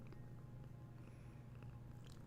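A pet cat purring close up, a low steady rumble running continuously under faint room noise, with no talking.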